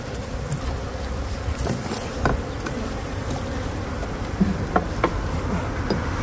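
Bees buzz steadily and densely, loud and close, as a colony full of honey is cut out of a wall, with scattered clicks and knocks from the removal work and no talking.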